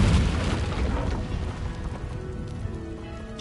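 An Incendio fire spell is cast in the video game Hogwarts Legacy, a loud whooshing burst with a deep boom at the start that trails off into a crackling, fading rumble.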